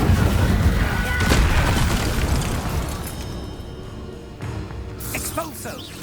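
An Incendio fire spell cast in Hogwarts Legacy bursts out loud and dense at first, a roaring, crackling blast that fades over several seconds amid clattering combat effects, with a sharp hit at the very end.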